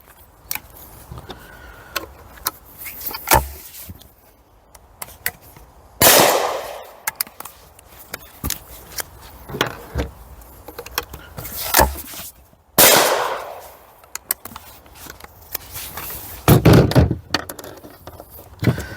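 A .410 single-barrel shotgun being fired outdoors, with a few loud sharp blasts spaced several seconds apart among lighter clicks and handling knocks.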